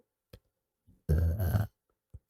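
A VTuber lets out one loud, close, deep burp lasting about half a second. A few faint small noises come before and after it in otherwise quiet surroundings.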